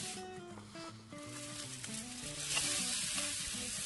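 Onion and ginger sauté in a pan, a soft continuous sizzle under a melodic music track that carries throughout.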